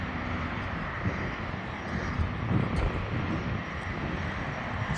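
A steady, droning engine roar holds constant throughout, broadband and fairly loud, from an A-26 aircraft engine running nearby during a pre-oil, with no talking.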